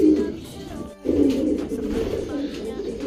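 Pigeons coo close by in soft, throaty rolling calls, repeating with a short pause, under a low background murmur, during road training of racing pigeons in Victoria, Tarlac.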